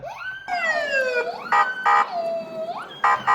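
An electronic toy police car siren wails in rising and falling sweeps, broken by short bursts of rapid chirping tones; loud, close and bright.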